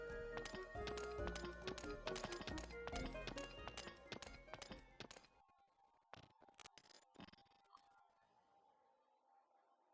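Horse hooves clip-clop in a rapid, steady rhythm in the Suikoden III video game, loud at first before stopping abruptly, followed by a few sparse taps and quiet game ambience.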